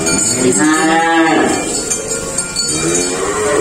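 Young Limousin bull calf mooing loudly and close, with two drawn-out calls separated by a short pause, over background noise from a livestock pen.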